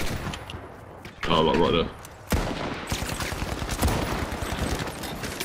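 Gunfire in the video game The Finals, with bursts of rapid automatic shots and scattered single cracks at close range, loud throughout, while a player's voice breaks in briefly partway through.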